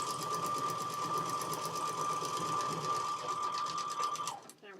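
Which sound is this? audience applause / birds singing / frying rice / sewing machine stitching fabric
sewing machine stitching fabric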